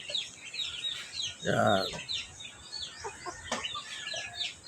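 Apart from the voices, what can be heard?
chickens clucking at feeding time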